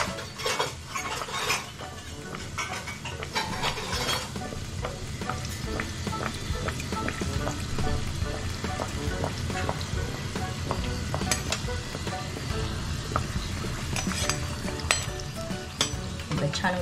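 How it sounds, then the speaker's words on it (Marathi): Katori chaat cups deep-frying in hot oil, a dense crackling sizzle that runs the whole time, with frequent metallic clinks of a mould and utensils against the pan, close by and without talk. "जशी कटोरी तळली जाईल तशी ती वाटीला सोडत जाईल."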